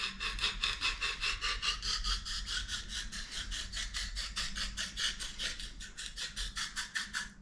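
A knife blade is drawn back and forth across an oil stone in quick, even rasping strokes, about three per second, close and clear with no talking.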